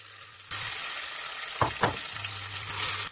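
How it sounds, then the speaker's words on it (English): Lamb pieces stir-fried over high heat in a wok, a loud continuous sizzle with a couple of scraping stirs of the spatula midway. "Stir fry quickly."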